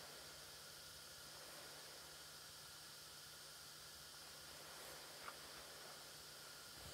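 A LOL Surprise Charm Fizz ball dissolving in water gives off a steady, faint fizzing hiss that continues evenly throughout with no talking.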